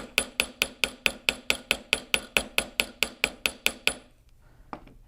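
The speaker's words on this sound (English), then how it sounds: "I need to bring it over to my anvil here, use my chasing hammer" Rapid, evenly spaced chasing-hammer strikes flatten the end of silver wire on an anvil, about twenty ringing blows in a steady rhythm, then a pause and one last lighter tap.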